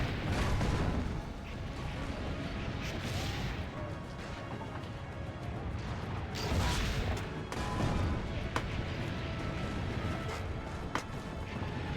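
Cannons firing during a siege of a town in Assassin's Creed Brotherhood, with heavy booms and crashes of impacts repeating over a dense battle din, fairly loud throughout.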